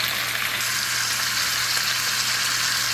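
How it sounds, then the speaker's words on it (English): Chicken searing in butter in a pan for paprikash, a dense, loud, continuous sizzle and crackle from start to finish with no talking. "want to kind of sear the chicken just a little bit on each side till it's like got a little bit of a brown coating"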